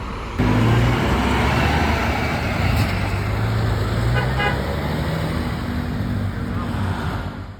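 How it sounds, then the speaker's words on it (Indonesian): Rosalia Indah First Class bus pulling away in traffic, a steady loud engine and road rumble with brief horn toots partway through, voices faintly mixed in. "sekarang busnya akan berangkat kembali menuju ke tujuan akhir di Bitung"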